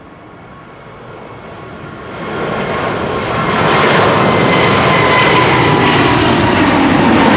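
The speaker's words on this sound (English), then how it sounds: "Delta Airlines Flight 57 to Salt Lake City is coming. Here it is, rolling already." A Delta Airlines jet bound for Salt Lake City rolls and takes off at Amsterdam Schiphol Airport, its engine roar swelling steadily from a loud rumble to a powerful, sustained blast with no voices.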